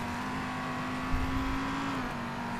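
Race car engine in Race Driver GRID, driven fast around a track against Audis, a steady droning tone holding high revs with a slight pitch dip near the end and a brief bump of road noise midway.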